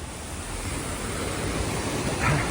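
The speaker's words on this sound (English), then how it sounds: "it is raining quite hard now" Heavy rain drips off sunshades on a street in Menton on the Côte d'Azur, heard as a dense, steady wash of hiss and patter with no gaps, fairly loud and close.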